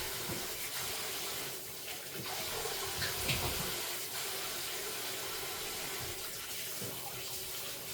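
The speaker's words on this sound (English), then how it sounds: "let me wash my hands" Hands are washed under a running tap, a steady close hiss of flowing water with slight splashing changes throughout, no speech.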